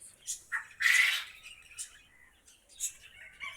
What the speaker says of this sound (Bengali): অনেকগুলো বাবুই পাখি আছে